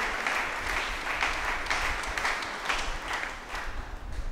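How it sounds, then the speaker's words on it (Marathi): A church congregation at St. Thomas Church, Sandor, gives a confirmation service's candidates sustained applause, the clapping loud and even with slight swells. "आम्ही सर्वजण जोरदार टाळ्या वाजवून तुमचं अभिनंदन करतो"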